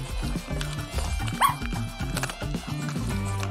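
A dog gives one short bark over a busy bed of music and clattering effects, fairly close and quickly over.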